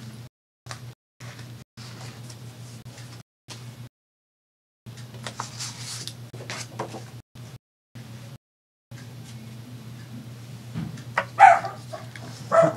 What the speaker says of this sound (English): Oh, my dog's going crazy.